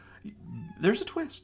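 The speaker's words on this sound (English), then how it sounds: "one of the kitties has joined me and is meowing" A pet cat meows twice in quick succession close by, right after a woman's brief spoken remark indoors.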